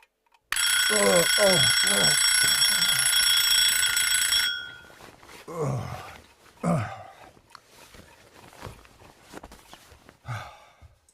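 A loud electronic alarm clock rings continuously for about four seconds over a person's groans and sighs of waking up, then stops, leaving rustling, breathing and short vocal sounds.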